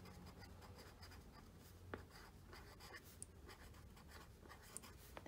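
Pen scratching across paper at a desk, a quiet continuous scribble of handwriting with a few small taps and pauses between words, close and faint, with no talk.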